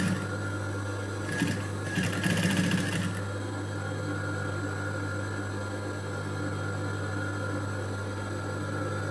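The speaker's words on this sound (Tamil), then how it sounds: "இப்போ தையல் அடிக்கும்போது பார்த்தீங்கன்னா இந்த பிங்க் கலர் துணியில் தையல் படக்கூடாது" Sewing machine stitching thread piping onto pink blouse fabric, a short burst of fast mechanical whirring stitches, then a steady motor hum continuing alone.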